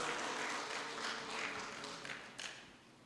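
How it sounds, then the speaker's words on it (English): Audience applause after an introduction at an event honouring a state-certified Pandita, a steady patter of clapping that thins out over a few seconds, heard at moderate distance. "That in itself requires a round of applause"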